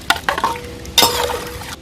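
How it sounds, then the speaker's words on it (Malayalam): Tapioca bubbling in a pot of water seasoned with salt and turmeric, with close stirring scrapes and a sizzling boil that surges about halfway through. "തിളച്ചുടങ്ങി."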